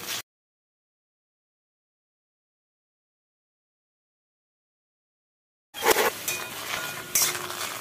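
Ghetkul leaves hit a hot pan after a long silence, giving a short burst of sizzling with scraping and clinking as they are stirred.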